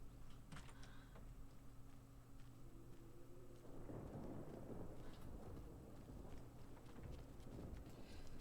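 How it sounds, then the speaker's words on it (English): Thunderstorm ambience in the video game Alan Wake II, a steady wash of rain and low rumbling thunder that swells midway and stays loud and close throughout, with no talking. "Right, spooky storm."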